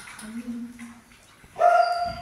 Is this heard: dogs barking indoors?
yes